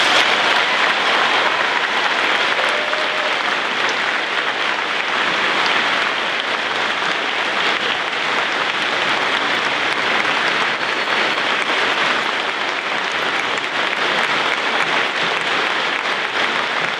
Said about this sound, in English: please give the director and these amazing people a round of applause